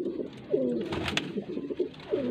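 A pigeon kept for breeding and sale coos in short repeated phrases, fairly close and clear, over quiet background.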